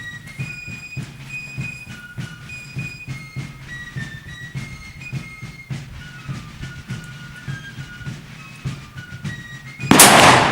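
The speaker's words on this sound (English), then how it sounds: "these targets are being shot at 100 yards" A trapdoor rifle fires at targets 100 yards away, one sharp, loud report bursting out near the end after a stretch of quiet ticking and faint background sound.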